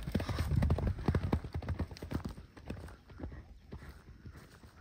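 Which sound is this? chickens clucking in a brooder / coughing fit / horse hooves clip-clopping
horse hooves clip-clopping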